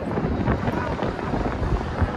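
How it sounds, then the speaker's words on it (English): Steady, loud wind buffeting a microphone high up on a ride at Disneyland Resort, a continuous low rumble and roar with gusty swells throughout. "I'm sure you guys can hear all the wind"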